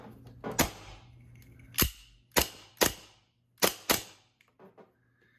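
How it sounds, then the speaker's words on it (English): Five sharp pops from an Armorer Works HX24 air pistol, spaced irregularly, the middle shots close together, fairly near with a faint hum in the background. "it's a very loud gun"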